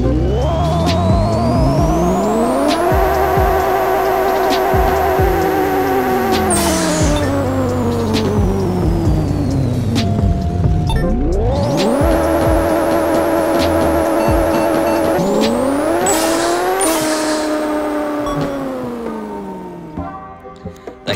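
Drag racing car in the Pixel Car Racer video game on a quarter-mile run with manual shifting: a loud engine revs up and climbs through repeated gear changes, then drops and builds again through another run of shifts.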